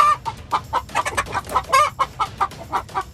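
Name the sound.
hens clucking over the nesting boxes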